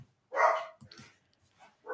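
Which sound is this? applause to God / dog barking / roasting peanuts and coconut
dog barking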